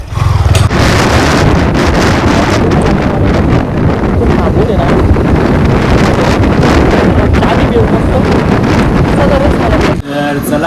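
Heavy wind roar buffets the microphone while a Yamaha MT motorcycle rides on the road. The wind noise is loud and continuous and nearly drowns out the engine, then drops off abruptly near the end.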